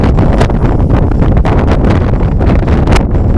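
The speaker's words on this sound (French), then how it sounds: "le vent devient de plus en plus fort" Strong gusting wind roars across the trail up the Soufrière volcano, a loud, continuous buffeting that hits the microphone hard with brief surges and no pauses.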